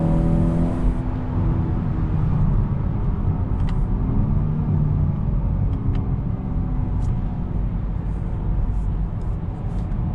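A 2021 Honda Accord 2.0T Sport's turbocharged engine drones steadily from inside the car while driving, a low continuous hum with road noise, rising slightly in pitch as it pulls, no talking.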